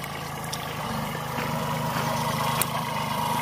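A small farm tractor's engine runs steadily at a medium idle-like pace, a continuous mechanical drone with a faint knock near the end and no talking.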